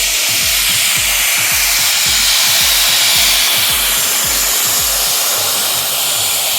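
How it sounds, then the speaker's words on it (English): A vacuum cleaner roars loudly and continuously outdoors in a garden, a steady hiss with a rhythmic low thumping beneath it and no voices. "vacuum the garden too"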